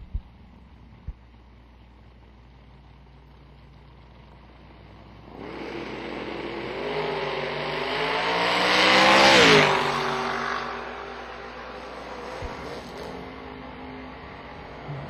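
A Camaro makes a drag race pass, its engine building from a low idle to a loud roaring sweep that peaks as it passes close, then fades away.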